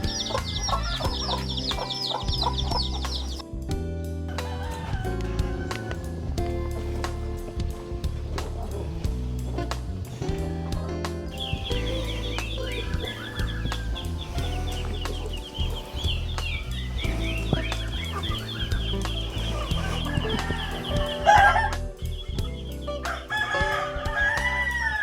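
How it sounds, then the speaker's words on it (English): Chickens cluck and chatter continuously while a rooster crows loudly at the start and again in long calls later, over low background noise, in Tenganan Village, Bali. "Oh, look at the little chickens."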